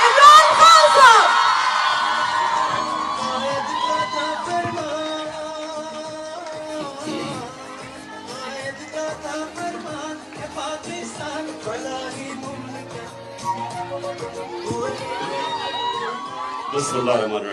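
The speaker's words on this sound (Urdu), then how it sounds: "بھرپور تالیوں کے ساتھ عمران خان صاحب" A large crowd at a girls' convention in Islamabad whoops, shouts and cheers for Imran Khan, loud at first and then settling into scattered yells and claps, with a voice over a loudspeaker and music-like tones running underneath.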